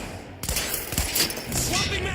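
Gunfire in the video game Quantum Break erupts in a rapid burst of shots, loud and close, with shouted voices mixed in.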